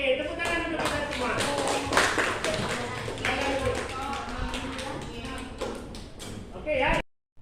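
A classroom of children claps in unison with quick, rhythmic taps over several seconds, close and fairly loud, with voices mixed in, before stopping abruptly.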